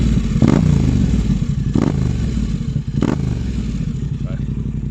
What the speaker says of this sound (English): if I just give it a blip so you can at least hear it